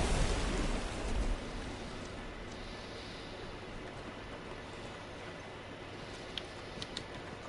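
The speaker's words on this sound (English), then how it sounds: "At least we're out of the rain." Steady rain hiss in a video game, a broad wash of downpour that is louder at the start and then settles into an even, moderate patter with a few faint clicks near the end.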